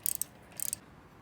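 A ratchet tightens a bolt with a 5/16 socket on a Dana 44 axle, giving two short bursts of quick, crisp clicks close by, separated by a brief pause.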